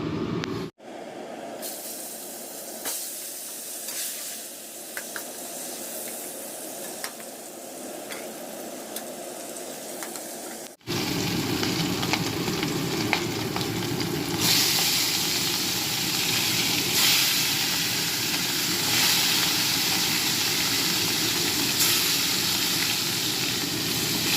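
Fish sizzling as it fries in a pan for a mustard-paste curry, a steady crackling hiss that grows louder and denser midway and continues without talk.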